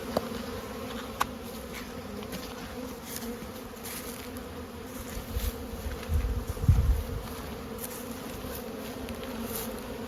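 Steady droning buzz of many honey bees around a hive in spring, continuous throughout, with a few faint clicks and a low rumble swelling midway.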